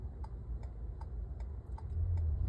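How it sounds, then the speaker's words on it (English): A car's right turn signal indicator ticking in a steady, even rhythm, about two to three clicks per second, soft and close inside the cabin over low engine rumble. "so I've got my right signal on"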